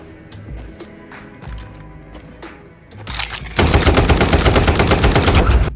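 Gunfire from the sci-fi film Cosmic Sin, scattered loud shots at first that build into a dense, continuous burst of rapid automatic fire, close and intense.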